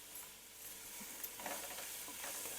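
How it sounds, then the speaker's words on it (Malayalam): Onion sautés with green chili and curry leaves for a pork roast, a soft, fairly faint sizzle with light stirring scrapes, steady and uninterrupted, no voices. "നന്നായിട്ടിത് വഴറ്റിയെടുക്കാം."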